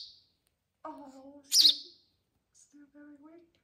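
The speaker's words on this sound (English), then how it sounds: "I was awakened by the chirping" A rescued young sparrow gives a few soft chirps with quiet pauses between them, close by in a calm indoor setting with no talk.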